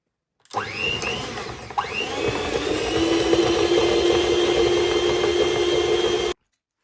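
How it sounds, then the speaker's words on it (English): An electric whisk mixer whirs in a kitchen while a lemon drizzle cake batter is made. After a brief start and a short pause, the motor settles into a loud, steady, high whine that holds until it cuts off abruptly. "I got this one, which I believe is much stronger than the last whisk mixer"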